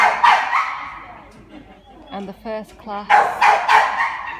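Dogs bark and yip in short bursts at the Brayton dog show, mixed in with someone talking nearby and general show-ground noise.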